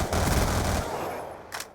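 Rapid automatic gunfire in Call of Duty rattles loud and dense for almost a second, then fades into a trailing echo before one more shot cracks near the end.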